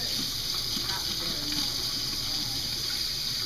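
Water runs steadily from a tap, a constant close hiss filling the whole stretch with faint low background sounds beneath it.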